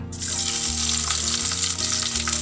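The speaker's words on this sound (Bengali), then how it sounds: "একদম মিডিয়াম ফ্লেমে রেখে পেঁয়াজটাকে আমি ভাজছি।" Four medium chopped onions frying over a medium flame in hot white oil, giving a loud, steady, dense sizzle with a low hum beneath, no voices.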